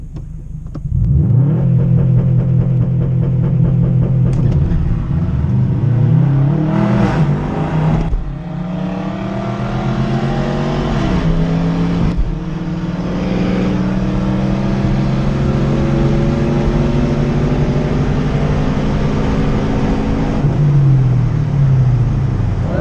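A 2013 Subaru WRX launches down a drag strip, engine revving hard and climbing through gear changes with brief dips between shifts, loud and sustained from inside the car for over twenty seconds.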